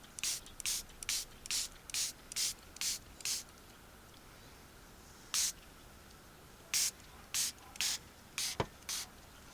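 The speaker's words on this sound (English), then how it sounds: "Let's give you a good mist." Repeated short hissing bursts of a water spray bottle misting mushrooms, a quick run of about eight even pumps, a pause, then several more, close and clear with no talk.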